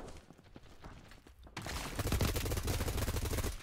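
Rapid automatic gunfire from BattleBit Remastered, including an HK419 rifle, starts with scattered distant shots and then erupts into a loud, close, continuous burst of rattling rounds.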